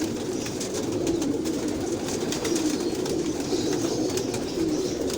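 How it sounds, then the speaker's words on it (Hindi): Rampuri pigeons coo steadily in a loft or shed, a soft rolling murmur of several birds repeating close by with no talking over it. "ये कबूतर है जी, माशाल्लाह से देखें"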